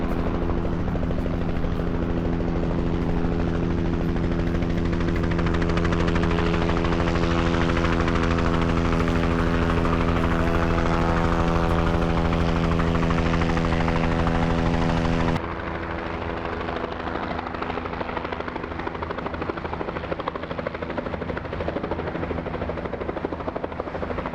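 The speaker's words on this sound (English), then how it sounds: "There are two other helicopters approaching the vicinity of Ockham." Helicopter at the Brooklands fly-in, steady loud rotor and engine drone with strong tonal hum, close and continuous, dropping slightly in level partway through.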